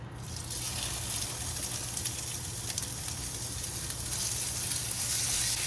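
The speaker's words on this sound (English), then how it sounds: "I love cooking on cast iron with a little bit of hot olive oil on the bottom. Let's brown up this Dove meat." Dove meat browning in hot olive oil in a cast iron skillet, a steady, close, even sizzle with faint crackles, no talking.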